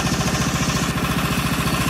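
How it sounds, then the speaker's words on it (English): A Predator 301cc engine fitted to a Snapper 8260 snowblower idles while warming up with the auger off, a loud, close, steady chugging beat. "But engine's running well. Just letting it warm up."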